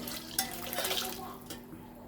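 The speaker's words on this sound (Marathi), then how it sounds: "आता मी इथे 1 ग्लास पाणी टाकून घेणार आहे." A glass of water poured into a pot of masoor lentils for a spicy dal, a soft steady splashing stream with a sharp onset, close and fairly quiet, no talking.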